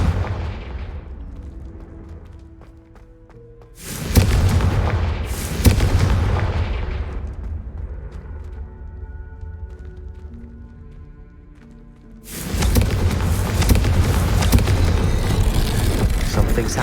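A Confringo fire spell bursts in Hogwarts Legacy with deep booming blasts, two sharp hits near the start and a long roaring eruption later, separated by quieter rumbling ambience.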